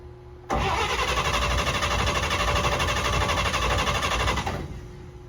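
A 1948 Chevy truck engine cranks and catches, then runs as a loud, steady, rough idle for about four seconds before cutting off; nearby and without talk.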